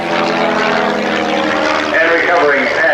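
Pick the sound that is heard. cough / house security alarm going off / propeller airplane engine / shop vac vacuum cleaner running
propeller airplane engine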